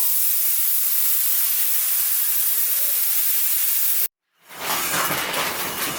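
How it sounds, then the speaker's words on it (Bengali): Water poured into a pan of hot frying lentils: a steady broadband hiss for about four seconds, a brief dropout, then a louder, rougher sizzle that rises sharply as the water hits the hot pan. "এবারে জল দিয়ে দেবো।"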